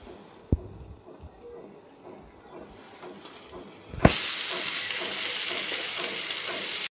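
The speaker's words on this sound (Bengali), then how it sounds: "প্রথমে আমি চিংড়ি মাছটা একটু ভেজে নেব।" Prawns dropped into hot oil in a kadai, a sudden loud, steady sizzle bursting in after a few seconds of quiet kitchen clatter and continuing close and even to the end.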